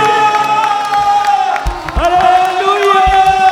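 Church congregation clapping and cheering loudly in thanks to God during a testimony meeting, sharp handclaps and whoops rising over music and crowd voices in a close, busy room.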